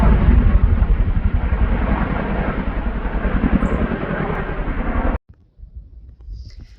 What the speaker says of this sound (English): It's a really big helicopter.